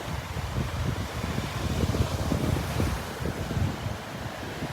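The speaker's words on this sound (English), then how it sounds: "A nice little series of waves coming in there." Ocean surf rolls in a steady wash as waves break on a sandbar at Vanderbilt Beach, with strong wind buffeting the microphone throughout and no speech.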